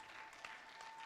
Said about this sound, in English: Continue clapping, everybody, for Megan.